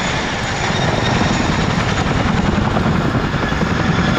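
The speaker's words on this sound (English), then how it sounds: "Forget the revs of F1, CJ, best noise in the world is that bit of bladeslap." RAF Chinook helicopter displaying at the Cosford Airshow 2025, its rotors beating in a loud, rapid, continuous blade slap that dominates from close range with no voices over it.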